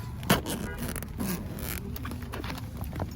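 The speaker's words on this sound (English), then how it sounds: "These zippers are extremely freaking stiff." Stiff zipper on a roof-mounted cargo bag atop a van being forced open, a short raspy scrape and tug with a sharp snag near the start, then continued rough zipping outdoors.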